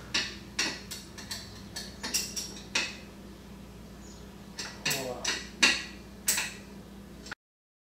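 Bolts being tightened on a Roush grill light kit for a 2018-or-later Ford F-150, heard as a dozen or so sharp metallic clicks and taps in an irregular rhythm, close by over a low steady hum.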